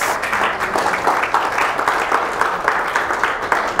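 A church congregation applauding during a Spanish-language worship service, with steady, dense clapping that carries on evenly through the whole stretch.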